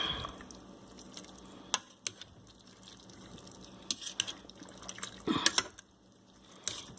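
Spaghetti pressure-cooked in a Ninja Foodi being stirred, with soft wet scrapes and sporadic utensil clicks against the pot, close and fairly quiet, a short busier stretch of stirring near the end.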